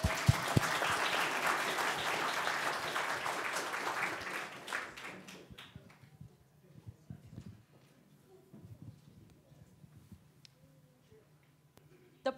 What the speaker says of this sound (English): A round of applause for Makita.